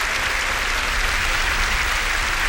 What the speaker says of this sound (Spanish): Vamos a aplaudir al Señor Jesús.